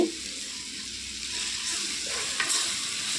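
Ginger, garlic and cumin paste frying with onions, drumsticks and tomatoes in a pan, a steady close sizzle with scraping stir strokes throughout.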